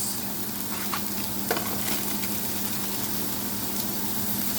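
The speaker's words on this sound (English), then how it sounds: "And let's put in the star anise." Whole star anise dropped into a hot pan where green cardamom pods are dry-toasting, giving a steady close sizzle with faint stirring and small clicks throughout.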